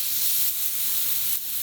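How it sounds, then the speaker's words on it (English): A Wagyu steak sears in a little oil on a hot salt block, giving a steady, close, even hiss of sizzling with no voices. "Listen to that amazing hot sizzling that's occurring right away."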